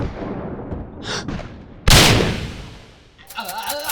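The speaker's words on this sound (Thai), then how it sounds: "เฮ้ยระเบิด" A sharp, loud explosion bursts out in the Neural Parasite video game. A quieter crack comes just before it, and a noisy rumble decays after it, with game sounds continuing.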